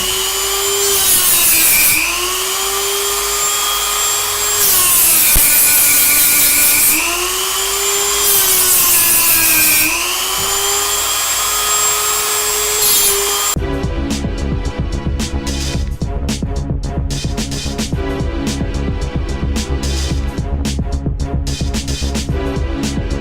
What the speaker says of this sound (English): So we use a Dremel just to clean up the ends so we can solder onto it.